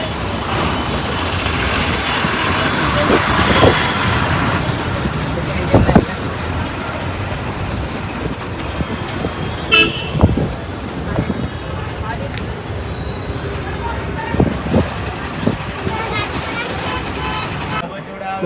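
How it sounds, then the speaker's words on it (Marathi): A Maharashtra ST bus pulls into Masvad bus station, its engine rumbling loudly with air brake hisses and clunks, surrounded by station traffic and people talking. "गाडी आलेली आहे मसवड बसस्थानकमध्ये"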